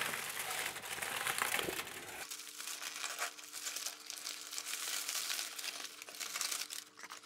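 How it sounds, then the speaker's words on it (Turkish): Plastic bag holding aquarium shrimp being opened by hand, close, continuous crinkling and rustling of thin plastic with no pauses. "Şimdi diğer paketimizi de açalım."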